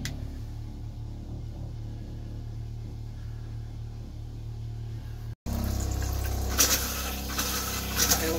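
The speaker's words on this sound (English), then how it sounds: "I then go and turn back the water pump back on." Water pump on a 2016 Keystone Bullet Crossfire 1900 RD camper trailer drawing antifreeze. A quiet low hum gives way after a brief cut to louder liquid rushing and pump drone.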